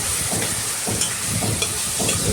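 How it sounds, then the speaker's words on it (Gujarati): Sweet potato pieces sizzle loudly in a frying tomato and chili masala while being stirred continuously, a dense close hiss with rhythmic scraping and stirring noises throughout. "હવે આપણે એમાં ચક્કરિયા જે કટિંગ કર્યા હતા એ એડ કરીશું અને સતત હલાવતા રહીશું"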